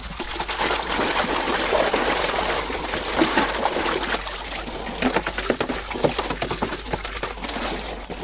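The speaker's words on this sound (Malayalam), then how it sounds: "എന്തായാലും ഇപ്പോൾ പോട്ട് വൃത്തിയാക്കിയിട്ട് വരാം കേട്ടോ." Water splashes and trickles continuously while a plant pot for water lettuce is washed clean, close and fairly loud, with uneven bursts of splashing toward the end.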